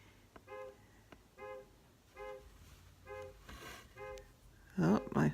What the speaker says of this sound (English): I hear the car beeping.